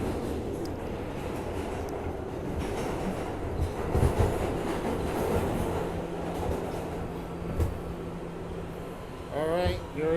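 A New York subway R211A B train running, with rumbling wheels and rhythmic clacking over rail joints, a rising whine near the end, and a voice talking briefly.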